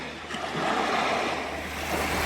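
Ocean surf washes steadily onto a beach at Dikili, a broad hissing roar that swells and eases, with some wind buffeting the microphone.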